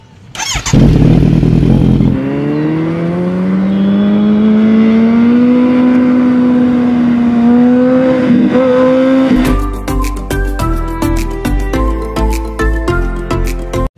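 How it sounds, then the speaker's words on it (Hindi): A Kawasaki Z900 motorcycle engine starts, then holds a loud, steady rising drone before breaking into sharp, rapid throttle revs with a crackling, pulsing exhaust close by. "ड्रीम बाइक है, फर्स्ट टाइम स्टार्ट करने जा रहा हूँ।"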